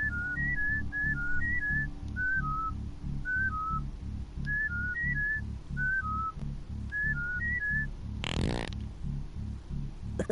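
A character in Oddworld whistles a repeated short two-note tune several times over a pulsing low game rhythm, with a brief sharp noise burst near the end.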